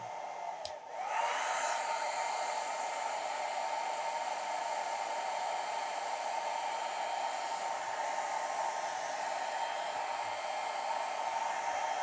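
A Philips BHC017 foldable 1200-watt hair dryer running on its Thermoprotect setting: a click, then a steady, loud, close airy whir that holds unchanged for the rest of the time, with no voices.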